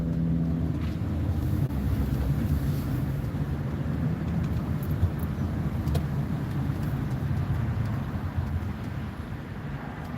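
Steady low rumble of a car on the move, heard from inside the cabin, with continuous road and engine noise and no talk.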